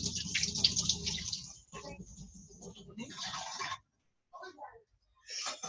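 Tap water runs in a kitchen sink while a whisk is rinsed, splashing in uneven bursts and stopping briefly, close, with a person talking over it.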